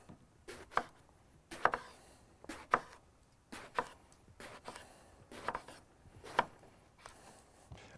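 A knife slices a purple eggplant into thick rounds on a cutting board, about a dozen crisp, evenly spaced chops, close and fairly quiet.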